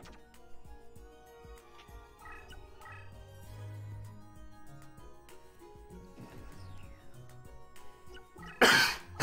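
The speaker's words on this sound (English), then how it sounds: "You're supposed to cough into your shirt sleeve." A single close, muffled cough into a shirt sleeve bursts out near the end, over steady background music from the Yu-Gi-Oh! Duelist of the Roses game.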